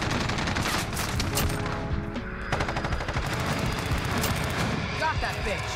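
FiNN light machine gun in the Modern Warfare video game firing in long, rapid sustained bursts, loud and dense, with a brief pause mid-way, while players talk over the gunfire.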